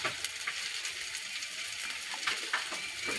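Onions sautéing in a pan for chicken dum biryani, a steady soft sizzle with faint crackles throughout, heard alone with no voices.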